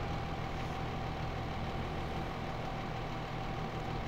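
A 300-horsepower tractor engine in Farming Simulator hums at a constant idle-like drone, steady and unbroken with a faint tonal whine, with no talk over it.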